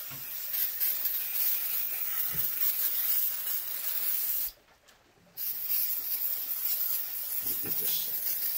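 A steady, close spray hisses almost continuously while something is sprayed down in a workshop, broken by one short pause before the spraying resumes.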